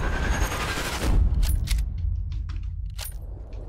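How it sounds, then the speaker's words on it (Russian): A long-range rifle shot in the Sniper Elite 4 video game lands as a loud, booming burst, followed by a rattle of scattered echoing clicks and cracks. "Дальний выстрел."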